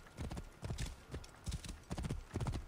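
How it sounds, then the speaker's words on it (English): A horse summoned in the video game Assassin's Creed Origins gallops in with rhythmic clip-clop hoofbeats in quick repeated clusters, with a brief whinny, at moderate volume and with no talking. "when you hold down the whistle button to call your horse, you don't hear a whistle, you just see the horse ride."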